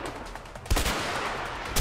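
Gunfire in the video game A Way Out: a sharp loud shot bursts out near the start, then a sustained roar of firing follows, with a second burst at the end, no talking.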